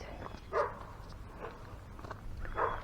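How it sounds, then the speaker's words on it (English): A small dog barks in the distance at a dam trail outdoors, three faint, widely spaced barks over steady outdoor background noise. "I hear a dog, but I don't see it. I have to go lay eyes on what's barking at me."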